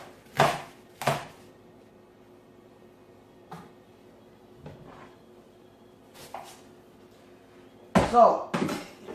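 A knife chops through cabbage for kimchi in a few sharp, separate strikes on a cutting board, with a quick cluster of cuts at the end; close by, with quiet gaps between strokes.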